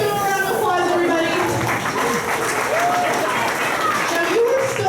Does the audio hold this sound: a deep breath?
no